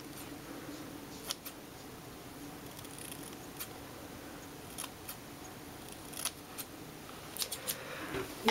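Faint, close snips of scissors trimming side-swept bangs, scattered irregular cuts that cluster more densely toward the end, over a quiet room background.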